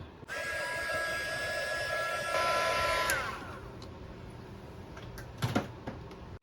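Heat gun shrinking heat shrink tubing over wire for a solar generator build, a steady airy blowing hum with a faint whine, close and continuous for about three seconds, then trailing off into light clicks and handling noise.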